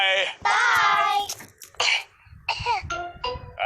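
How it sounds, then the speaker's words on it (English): A cartoon dog and sheep cough in a Peppa Pig kids' video game, giving several short bursts of childlike coughing and throat clearing, close and loud, with brief gaps between fits. "Danny Dog and Susie Sheep have caught Pedro's cough"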